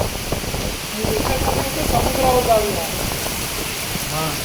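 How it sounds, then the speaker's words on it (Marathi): Heavy rain falling fast on a coastal plateau in strong wind, a steady broadband wash of downpour filling the clip while people talk over it. "एवढा पाऊस पडतोय आणि खूप स्पीडने पडतोय हवा पण तेवढी सुटली आहे"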